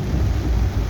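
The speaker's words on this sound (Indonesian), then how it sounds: "Oh, itu namanya halilintar." A deep rumble of thunder during heavy rain along a road in Mauk, Tangerang, a loud low continuous roll under steady rain noise, heard from inside a car.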